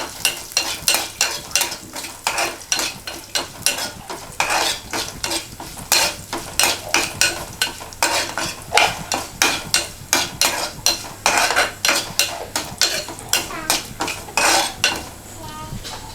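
A spatula clatters repeatedly against a pan while curry leaves and torn dried red chillies are stirred for kadala curry, loud rhythmic metallic scrapes and taps over a soft frying sizzle.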